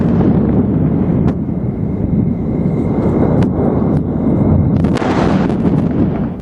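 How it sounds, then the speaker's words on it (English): A SpaceX Starship explodes overnight on its launch pad in Texas, making a loud, sustained roaring rumble with sharp cracks and bursts scattered throughout. "Online cameras that watched the pad round the clock captured the explosion of Starship."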